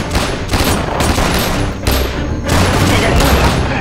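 Gunfire rattles through a battle scene in a war film of Japanese soldiers, dense loud bursts of rapid shots with booming impacts, continuous and close.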